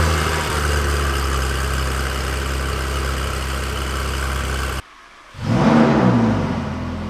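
A Lamborghini-style supercar (Performante trim) runs with a steady loud engine drone, cuts out briefly, then fires up again with a strong surge settling into a rich idle, close and alone.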